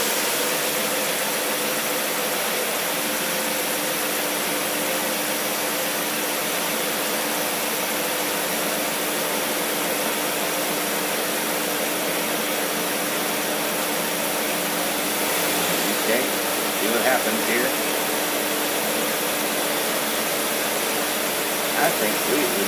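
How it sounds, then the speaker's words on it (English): A carbureted car engine with a Carter AVS carburetor free-revs on test with the rear barrels opening, a loud steady roar that holds throughout and rises slightly near the end. "we'll be testing a free flow, free rev with the engagement of the back barrels"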